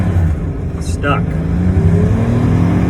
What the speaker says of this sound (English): Stuck, just spinning. Should have had winters on, not summers.